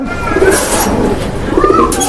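Pigeons in a loft give soft, low coos that repeat gently and sit close under a steady, noisy background.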